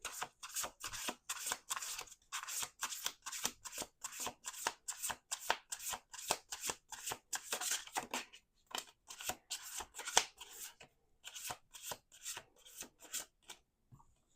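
A deck of tarot cards is shuffled again and again, with quick riffling bursts and crisp flicks repeating in an even rhythm, close and clear.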